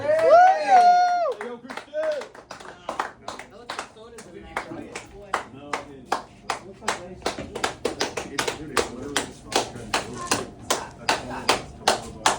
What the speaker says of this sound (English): Is that like a slow clap?